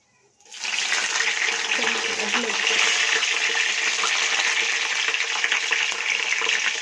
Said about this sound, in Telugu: ఇప్పుడు పచ్చిమిరపకాయలు వేస్తున్నానండి.